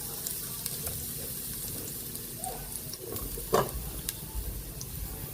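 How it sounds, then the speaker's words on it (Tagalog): Plenty of chopped garlic sizzling in hot cooking oil as the first step of Filipino pork dinuguan: a steady soft frying hiss with occasional spatula scrapes and a brief clatter of stirring. "Magigisa na po tayo para sa ating pork dinugan"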